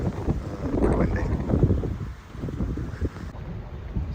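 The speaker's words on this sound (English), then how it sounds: "Windy." Wind gusts roar across a boat moored in a Caribbean bay off St Lucia, a steady broadband buffeting with low rumble, swelling and easing without letup.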